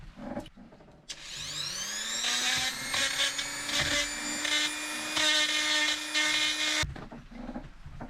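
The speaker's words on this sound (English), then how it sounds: "I'm gonna grind out these burrs." A Dremel rotary tool spins up to a high steady whine and grinds burrs out of a metal Lofrans manual windlass for several seconds, close and loud with scraping variations as it bites, then stops.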